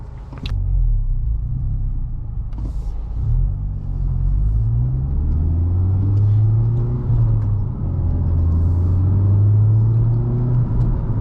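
A 2019 Honda Civic Type R drives along the road, its engine droning and rising in pitch as it accelerates through gears, with steady road rumble throughout.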